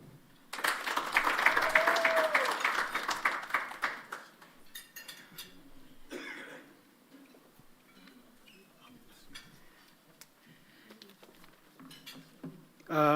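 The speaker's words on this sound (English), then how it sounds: "Please give this young man a round of applause, ladies and gentlemen" An awards-ceremony audience at the Kalasha International Film and TV Awards applauds a winner, a burst of clapping that peaks early and then thins into scattered claps and murmurs.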